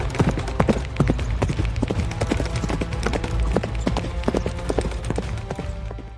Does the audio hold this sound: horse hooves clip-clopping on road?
yes